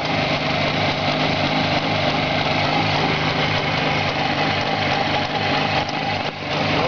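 A 638-type motorcycle engine with polished covers idles steadily on a test stand, a continuous, even buzzing hum close to the microphone with no talk.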